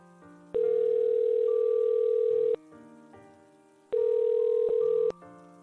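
Two long ringback tones sound after a phone call is dialed, each steady buzzing tone lasting about two seconds with a pause between, over a faint rain-like background hiss.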